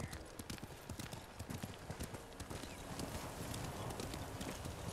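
Horse hooves clip-clop in the video game Ghost of Tsushima, a close, irregular run of soft hoofbeats over faint ambient background, growing slightly busier toward the end.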